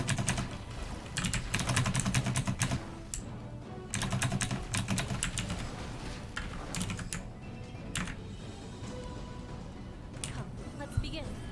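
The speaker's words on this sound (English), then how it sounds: "I can literally press both the keys at the same time" Rapid, bursty clattering of computer keyboard keys being mashed during a game of Illium, sharp clicks in dense clusters with short pauses, under ongoing speech.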